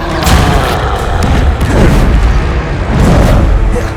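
Confringo fire-spell blasts from the Hogwarts Legacy video game: loud, heavy booms and bursts that roll one into another in a dense, continuous battle din, with brief voices mixed in.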